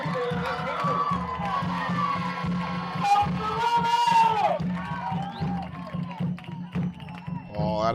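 Soccer fans in the stands cheer and shout through a steady roar near the end of a Statesville FC match, with whoops and children's voices rising over the crowd noise while a commentator talks above it.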